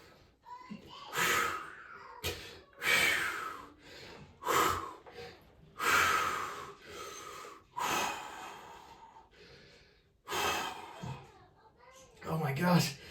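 Heavy breathing and gasping by a person at an outdoor disc golf tournament: repeated loud, ragged inhales and exhales in uneven bursts, with brief pauses between them.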